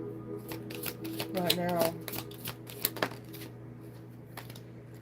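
A deck of Archangel Oracle cards is shuffled up close in a series of soft riffling, flicking bursts over a steady background hum, while a person speaks briefly.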